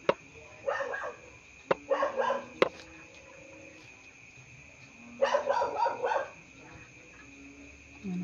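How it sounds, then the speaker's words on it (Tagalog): The neighbours' dogs bark outdoors at moderate distance, in three clusters of rapid yaps with quiet gaps between them, over a faint steady background hum. "Dami ingay ng aso."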